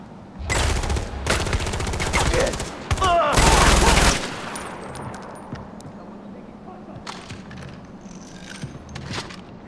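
Gunfire in Far Cry 4: dense automatic bursts and rapid shots roar up close for the first four seconds, then thin out to scattered distant pops amid battle ambience, with voices calling out over the fighting.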